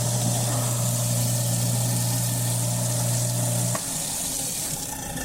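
A newly installed kitchen garbage disposal runs with water flowing through it, a steady motor hum with a rushing water wash that cuts off after about four seconds, leaving faint water trickle.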